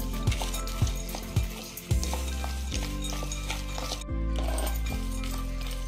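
Mutton chaap masala with chilli powder is stirred in a sizzling pan, a spoon scraping and knocking against the metal in repeated strokes over steady frying hiss.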